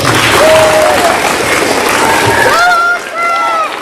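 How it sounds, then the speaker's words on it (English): Loud applause from a school audience welcoming second graders at a Battle of the Books event, dense clapping with cheers that thins out near the end as a voice speaks over it. "Give them a round of applause."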